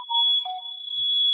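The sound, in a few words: smoke alarm beeping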